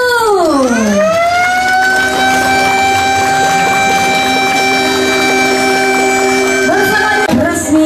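A siren sounded by pressing a button at an official ceremony, likely a rail service reactivation, rises in a sweeping wail, then holds a loud, steady multi-tone blare for about six seconds before cutting off abruptly.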